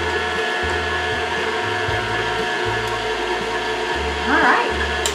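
An electric stand or hand mixer runs steadily on low speed, creaming strawberry white chocolate chip cookie dough, a continuous motor whir with a pulsing low rhythm and a brief brighter scrape near the end.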